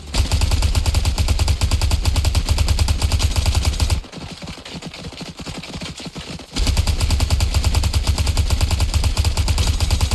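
Rapid automatic gunfire from a player shooting in the Fortnite video game crackles in dense, loud bursts, dropping to quieter shots for a few seconds midway before the heavy firing resumes.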